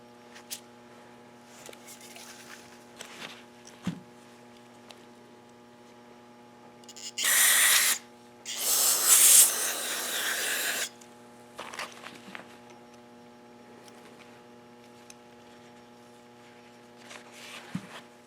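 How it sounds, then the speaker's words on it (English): Brake cleaner sprayed into the clutch master cylinder of a Honda Shadow 1100 motorcycle, two loud hissing bursts of aerosol spray in the middle, the second longer, over a quiet room with faint handling sounds. "then I used brake cleaner fluid"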